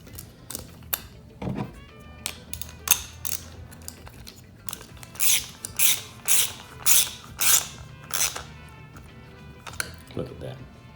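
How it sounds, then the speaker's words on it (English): A wrench ratchets in short clicking bursts while tightening a part on a homemade dipole antenna, close and crisp with pauses between runs, and a voice speaks briefly in between. "A little bit snug. Let the wrench do its thing."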